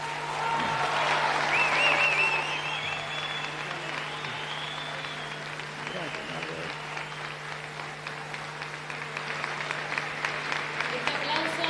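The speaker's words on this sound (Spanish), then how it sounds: "Vamos, fuerte ese aplauso de nuevo." Audience at a progressive political gathering in Argentina applauds in sustained clapping, loudest at first and then settling into a steady wash, with speech and a constant hum underneath.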